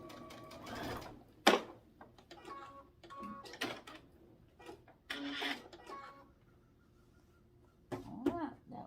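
A sewing machine stitches quilt binding in short bursts of rapid needle chatter, separated by brief pauses and soft handling noises, heard up close.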